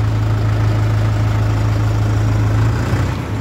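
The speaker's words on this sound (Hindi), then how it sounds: "शानदार आवाज़ है ट्रैक्टर की" A 2022 Mahindra 575 DI XP Plus tractor diesel engine idles close by with a loud, steady low rumble that holds even throughout and dips slightly at the end, with no talking.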